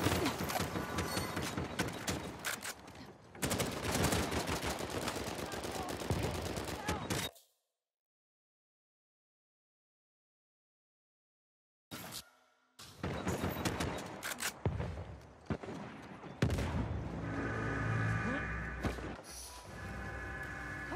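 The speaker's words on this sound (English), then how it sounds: "Should probably just follow the gunfire." Gunfire in the video game Uncharted 4 rattles in dense bursts and volleys, loud and continuous, broken by a stretch of silence before resuming with more shots and mechanical clatter.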